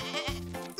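A cartoon goat gives a short bleat, with a brief harmonic tone rising at the end, loud and close with no speech over it.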